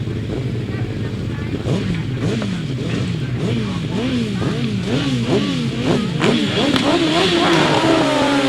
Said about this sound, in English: we move on then to the 1000cc sidecars, their third leg